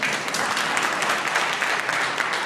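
Debate audience applauding in a steady, even patter of many hands, moderately close and continuous for the whole short stretch with no voices over it.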